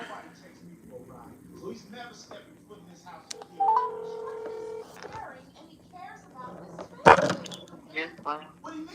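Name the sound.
telephone being dialed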